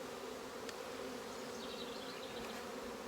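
Honeybees buzz around an open hive as it is put back together, a steady, faint droning hum with occasional individual bees passing close.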